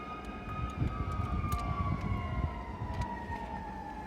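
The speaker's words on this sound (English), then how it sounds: "there's so many sirens going off now." Wailing emergency sirens rise and fall steadily in the distance, several overlapping, with low rumbling background noise and no talking.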